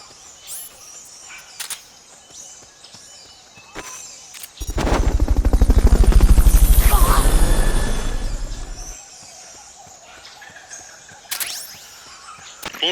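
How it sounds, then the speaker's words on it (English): A helicopter in the video game Metal Gear Solid: Peace Walker gives a loud, rapid rotor chop that swells for several seconds and then cuts off abruptly, set against quieter game ambience and scattered clicks. "Fulton recovery subject confirmed onboard helicopter."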